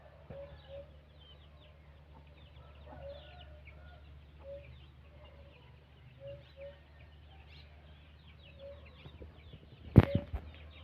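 Scattered soft clucks from chickens at a distance, quiet and intermittent over a low hum, with one sudden loud clatter near the end.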